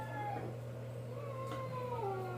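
Cats fighting and rolling, one of them black, give out long, wavering yowls and meows that rise and fall in pitch without a break, close by and fairly loud, with no one speaking.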